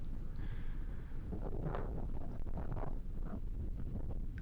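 Wind gusts across an outdoor disc golf course at the Beehive Classic tournament, Yikun Course, as a steady, close, rumbling buffet against the microphone that fills the whole stretch without letting up.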